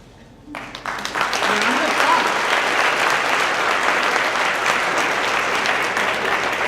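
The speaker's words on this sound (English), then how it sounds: "Give a round of applause for all of our birthdays." A crowd breaks into sustained applause at a company birthday celebration, swelling quickly and holding steady, with voices mixed in beneath the clapping.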